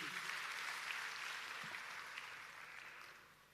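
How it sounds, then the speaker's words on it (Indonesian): A church congregation claps for God during a sermon, a soft, distant wash of applause that stays steady and then slowly fades. "Beri tepuk tangan bagi Tuhan kita"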